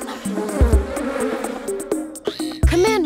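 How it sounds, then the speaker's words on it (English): Synthetic buzzing of bees in a Creature Cases video game over game music, with chiming tones and rising electronic effects near the end. "So many bees!"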